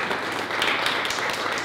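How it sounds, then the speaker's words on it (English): An audience at a boxing press conference gives a round of applause, a dense, steady wash of many hands clapping together with no pauses. "A big round of applause for Alexander Usyk."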